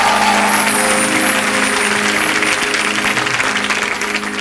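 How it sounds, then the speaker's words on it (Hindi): Studio audience of The Kapil Sharma Show clapping loudly and continuously throughout, a dense steady wash of applause with faint tonal music threading underneath. "तो हो जाए जोरदार तालियां"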